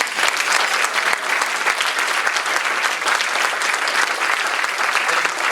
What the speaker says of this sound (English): one more round of applause for U.S. Senator Rob Hogg